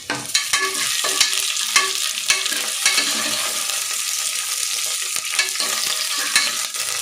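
Curry leaves and four slit green chillies fry in hot oil for a veg kurma, a loud continuous sizzle broken by regular spoon scrapes and taps against the pan.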